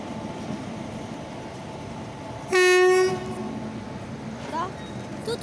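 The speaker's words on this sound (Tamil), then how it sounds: "ட்ரெயின் கிளம்பி போயிட்டு இருக்குது." A train departing Thoothukudi railway station sounds a loud, sustained horn blast in the middle, over a steady rumble of rolling wagons, with a second fainter horn toot near the end.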